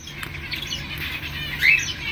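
Small Gouldian finches chirp and twitter softly over a steady background hiss, with one brighter, slightly louder call near the end.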